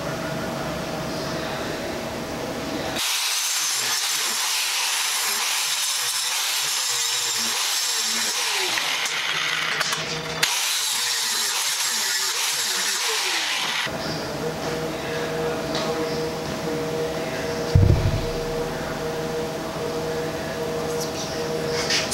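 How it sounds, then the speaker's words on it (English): Back gouging the root side of an aluminum weld joint, a loud, steady broadband grinding roar with brief pauses and tool restarts, running close and continuous throughout. "So we're gonna back gouge this now and clean this up"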